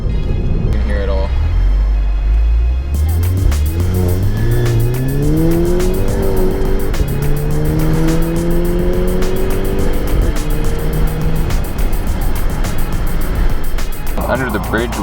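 A VW MK6 GTI fitted with a CTS turbo intake accelerates hard through the revs, its loud engine roar rising in pitch with a climbing turbo whine over road and wind noise.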